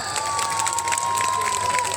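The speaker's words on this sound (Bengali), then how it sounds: "তাই প্লিজ নিজেদের জন্য একটা জোরে হাততালি হয়ে যাক।" Audience at a Bengali stage show night, applauding loudly: a dense, steady wash of claps and crowd noise lasting the whole moment, with a thin sustained tone over it.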